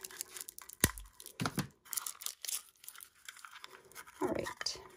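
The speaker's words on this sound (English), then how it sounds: "So I'll just go and cut this open." Scissors or a blade slicing open a card pack's plastic wrapper for a gift card holder project, a few sharp tearing and crinkling bursts up close with quiet pauses between.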